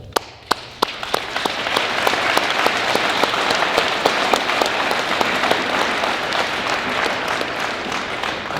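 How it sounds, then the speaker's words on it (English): An audience at MCF-Stillwater, a prison, breaks into applause, starting with a few sharp, distinct claps and swelling into dense, loud, sustained clapping from a sizable group that holds steady to the end. "I want to give you a round of applause"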